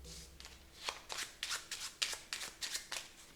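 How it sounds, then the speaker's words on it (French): Piles of playing cards are shuffled by hand, producing a quick series of soft riffling flutters, close and fairly quiet. "il mélange chaque tas."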